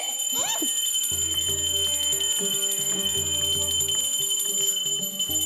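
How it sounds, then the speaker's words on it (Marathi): A puja hand bell rings continuously during a home morning aarti, its bright metallic tone steady and fairly loud throughout, with a low hum and faint background voices underneath. "सासूबाई, आधी ती घंटा वाजवणं बंद करा।"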